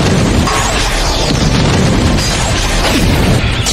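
A detonator sets off an explosion in an Ultraman show, a loud, dense, sustained roaring blast rumbling continuously without pause.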